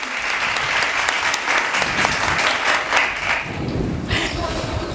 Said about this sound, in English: Big round of applause, audience.